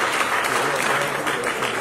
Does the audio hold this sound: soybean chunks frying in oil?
no